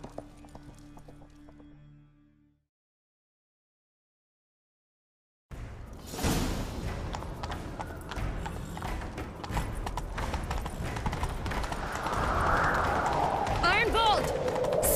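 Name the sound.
horse galloping in a video game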